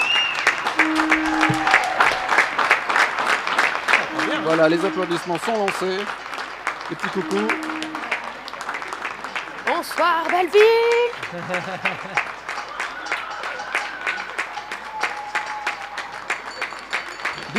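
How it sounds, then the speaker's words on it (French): Neighbours in Belleville, Paris applaud from their windows and balconies, a steady wash of distant clapping across the street that runs throughout, with people talking close by over it. "Voilà, les applaudissements sont lancés."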